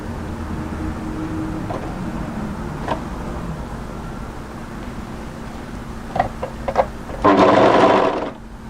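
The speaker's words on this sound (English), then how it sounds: "start overlocking" Overlocker serger stitching a knit cardigan sleeve seam, a steady mechanical whir running under quiet surroundings with a few small clicks, then a louder, brighter burst of fast stitching near the end.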